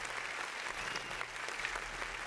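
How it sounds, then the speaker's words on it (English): A brief, dense round of applause as a sound effect, steady clapping filling the short moment without any speech over it. "round of applause real quick for myself right there"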